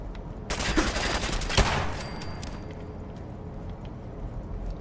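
Pistol gunfire in Fallout 4, a burst of sharp broadband shots around one to two seconds in with one strong crack, followed by quieter game ambience and faint ticks.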